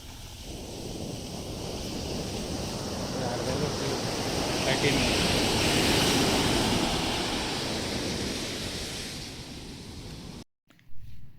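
Ocean waves break and wash continuously at Uppada beach, a steady broadband surf roar with some wind, swelling louder mid-way, then cutting off abruptly before a brief voice at the end.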